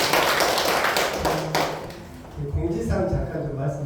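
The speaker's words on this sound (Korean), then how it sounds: "우리 스님께 먼저 박수 한번 보내주세요." Applause for a monk from an audience at a Buddhist scripture class, a dense patter of clapping that thins out and gives way to a voice speaking near the end.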